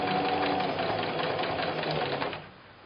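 A sewing machine stitches down quilt binding in a fast, close, steady mechanical whir and patter that runs for about two and a half seconds before stopping.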